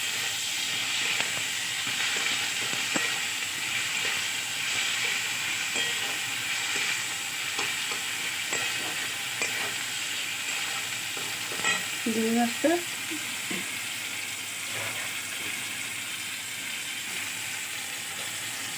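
Ripe, tangy tomatoes are added to a hot frying pan and stirred. A constant hissing sizzle lasts nearly twenty seconds, broken by light scraping strokes and a brief clatter midway.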